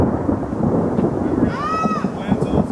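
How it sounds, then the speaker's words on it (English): Loud thunder rolls in a continuous low rumble during an outdoor wiffle ball game, and a brief, high swooping call cuts in partway through. "Loud thunder rolling in."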